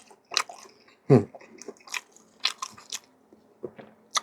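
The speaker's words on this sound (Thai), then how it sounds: "ไข่ดาวทอดเนี่ยทอดให้กรอบเลยทั้งหน้าทั้งหลัง กินกับน้ำพริก" A crispy fried egg, fried crisp on both sides and eaten with chili paste, is bitten into with one loud crunchy bite, then softer chewing and mouth sounds follow in short bursts, close up with no talk.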